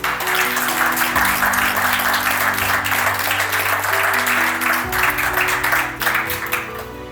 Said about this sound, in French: demander qu'on vous applaudisse.